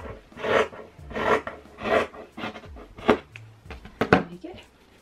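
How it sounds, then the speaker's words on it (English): Scissors cutting straight across a fabric pyjama leg to shorten it, a series of close, rasping snips and rustles repeating in short bursts at an uneven rhythm. "I'm just going to chop the length straight off."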